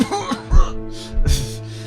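A man coughs out dust in a harsh, throaty fit, two rough bursts in quick succession, close and loud.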